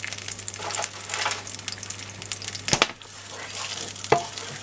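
Garlic sizzling in a little oil in a pan, a continuous close crackle with a couple of sharper clinks of utensils, no voices.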